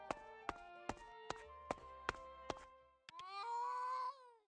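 A cat named Admiral in the video game A Space for the Unbound gives a single drawn-out meow near the end, after a run of regular tapping sounds.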